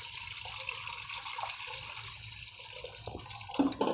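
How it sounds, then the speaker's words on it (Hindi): Water pours steadily into a pot set up for baking a cake without an oven, a continuous splashing, trickling flow with rising gurgle toward the end. "पानी डाल दीजिए जी इसमें।"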